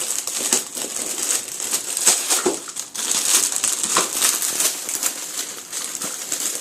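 Wrapping paper crinkles and crumples in bursts as a baby tears it away from a Christmas toy, close and fairly loud, rustling almost continuously.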